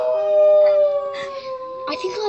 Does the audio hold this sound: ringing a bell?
no